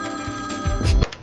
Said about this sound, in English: Answer the bloody phone now.